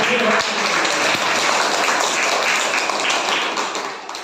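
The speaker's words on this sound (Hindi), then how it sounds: "जोरदार ताली।" Loud, dense applause from an audience of teachers, parents and a headmaster at a school training programme, sustained evenly and fading slightly at the end.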